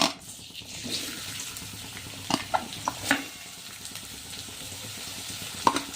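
Chopped onions dropped into hot oil for veg momo filling, a quiet crackling sizzle with several sharp clinks and scrapes of a spoon against the pan, no talking.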